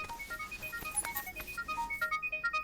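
A phone rings with a bright melodic electronic ringtone of repeating tones in a Hindi film scene, moderately faint, with no talk over it.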